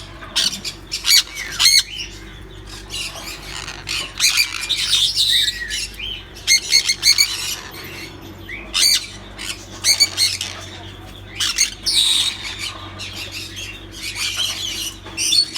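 Harsh, repeated squawks from an agitated female sun conure parrot at her nest, loud and close, coming in irregular bursts with scattered chirps between calls.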